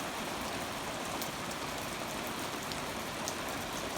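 Heavy rain from an afternoon summer thunderstorm pours steadily onto surfaces at a farm, a dense, even hiss of countless drops with no pauses, fairly soft overall and no voices.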